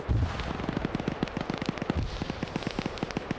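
Grenades burst on a cache during a large online squad firefight, with two deep booms standing out over a steady rapid crackle of distant gunfire.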